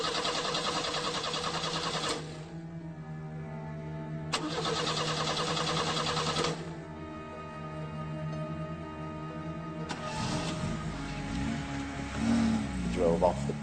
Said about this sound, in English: We went to start the car, and at first the car wouldn't start